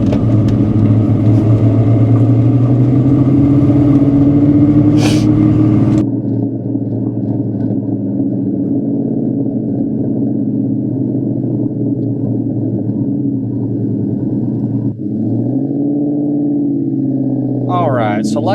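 Inside a 2003 Ford SVT Cobra in Oxford white with 10,500 original miles, the engine rumbles low and steady on a test drive, shifting tone around a gear change and again near the end, with a voice over the cabin drone.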